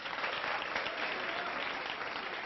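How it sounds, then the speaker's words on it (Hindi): Steady applause from an audience at a lecture-style session, a continuous even wash of many hands clapping, fairly close and unbroken. "एक बार तालियां ठोको इनके लिए, क्या बात है।"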